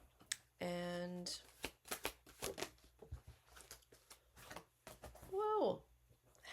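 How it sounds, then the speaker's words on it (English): A deck of oracle cards is shuffled by hand, giving a quick run of crisp flicking and riffling clicks, with short voiced sounds at the start and near the end. "I'm gonna pull a few oracle cards"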